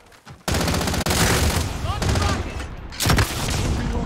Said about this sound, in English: Sniper in the distance.